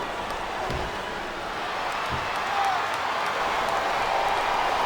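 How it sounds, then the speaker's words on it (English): A capacity arena crowd at a WWE wrestling event roars and murmurs steadily, a broad, distant wash of cheering with scattered thuds and claps throughout. "This capacity crowd is making their opinions known tonight."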